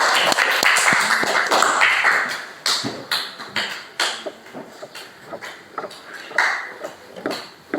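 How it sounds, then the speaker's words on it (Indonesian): A classroom of students clapping for their class leader: a burst of uneven, close handclaps at first, then scattered, thinning individual claps and taps trailing off. "Tepuk tangan dulu untuk ketua."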